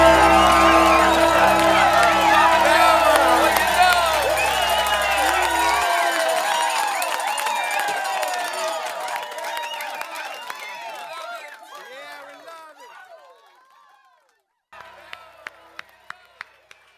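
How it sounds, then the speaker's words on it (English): A live crowd cheers, whoops and applauds at a reggae listening party, loud at first over the fading music, then thinning out into scattered claps that tail off toward silence before a few final claps. "Give yourselves a round of applause,"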